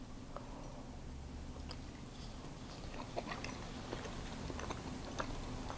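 Someone chews a freshly baked blueberry muffin with a crunchy Demerara sugar top, close to the microphone, with soft, irregular crunches and clicks over a faint background hum.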